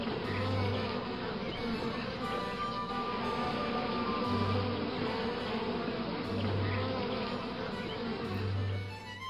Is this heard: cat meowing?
no